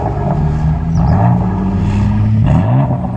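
Race-prepped Nürburgring ring taxi engine pulling hard and accelerating through gear changes, loud and steady from inside the cabin, with rising and falling engine tones and no talking.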